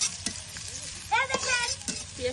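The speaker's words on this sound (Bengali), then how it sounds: "দেখেন মুরগির মানে পেঁয়াজটা এখন ভাজা ভাজা করবো।" Chopped onion fries in a pan with a steady soft sizzle, broken by a few sharp stirring clicks and scrapes, while a voice murmurs faintly in the background.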